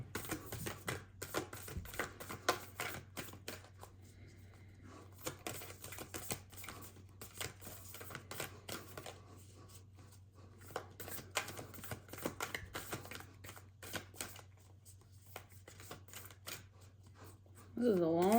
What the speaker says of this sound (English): This is a long shuffle.